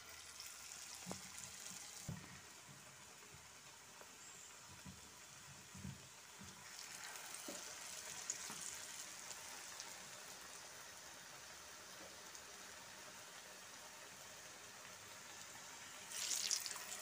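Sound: egg bajji frying in hot oil

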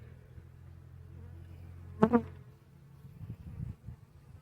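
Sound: honeybees buzzing on hive frame

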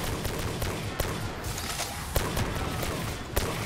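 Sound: gunfire in zombies video game map

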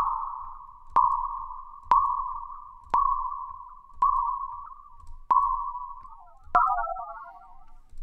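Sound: Opal granular synthesizer with longer grain length

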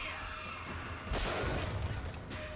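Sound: gunfire in the video game BioShock Infinite

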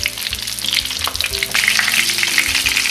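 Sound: food frying in a pan

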